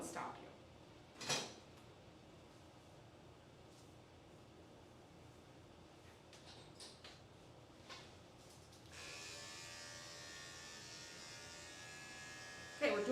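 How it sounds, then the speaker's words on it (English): An Andis 5-speed dog clipper fitted with a 10 ceramic blade hums steadily through a sanitary trim, faint and close at first, then a louder continuous buzz over the last few seconds, with a few knocks and handling sounds mixed in. "I'm using my Andis 5-speed, my favorite clipper, and I'm using a 10-blade ceramic."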